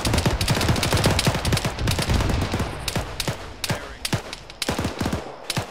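Rapid bursts of automatic grenade launcher fire during a squad field training exercise, dense overlapping reports in a steady stream that thins into spaced, sharper shots toward the end.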